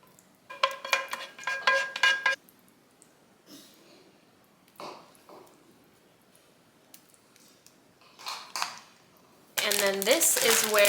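A spoon scrapes and taps as cooled gravy for a biscuits and gravy casserole is ladled into baking pans, in several short bursts of clinking with quiet gaps, ending with a louder clatter.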